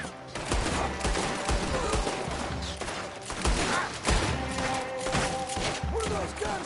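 Rapid gunfire from firearms in Red Dead Redemption 2 crackles through a busy, dense battle mix, with bursts and single shots overlapping continuously and voices speaking faintly underneath.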